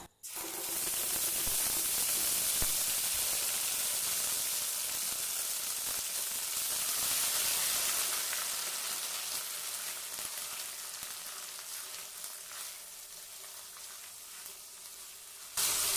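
Ground ginger-cumin paste hits hot oil with dried chillies and bay leaves in a pan and gives a loud, hissing sizzle that fades slowly and evenly over several seconds, with no talk.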